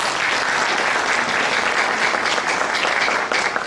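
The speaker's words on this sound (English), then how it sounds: "Shall we applaud this brand?" A keynote audience on leadership applauds steadily, a dense, even wash of many hands clapping at full strength throughout, with no voices on top.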